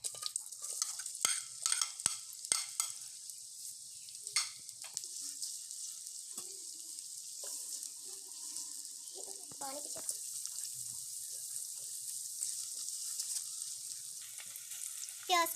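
Onions frying in a spoonful of ghee, with steady crackle and sizzle over a bright hiss and scattered sharp clicks of stirring against the pan, close and fairly quiet throughout; no one talks.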